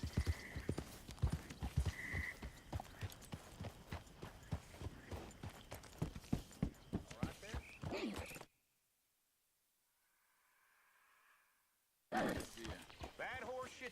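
Horse hooves clip-clopping in Red Dead Redemption 2, a steady walking rhythm under game music and ongoing speech, cutting out to near silence for a few seconds before returning.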